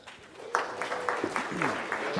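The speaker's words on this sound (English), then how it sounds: "everybody, if you could please give Mr. Junkin a round of applause" An audience at a dairy farm succession talk claps for speaker Andy Junkin, scattered applause rising and continuing steadily, with a voice briefly audible over it.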